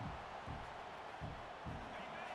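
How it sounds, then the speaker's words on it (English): Crowd noise in EA Sports College Football 26 fills a stadium as a steady, dense roar before a final red zone play, with faint pulsing swells underneath. "here comes the noise. This crowd is trying to inspire this defense to make a big red zone stop"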